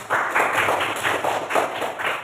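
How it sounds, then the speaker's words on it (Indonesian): A classroom group claps in a lively burst, with several quick rounds of hand claps close by, fairly loud and rhythmic, then fading slightly at the end. "Kita kasih dulu tepuk tangan untuk kelompok."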